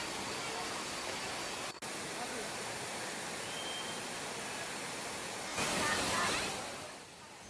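The Curug Tinggi waterfall gives a continuous broadband rush of falling water, steady and moderately loud, swelling louder near the end.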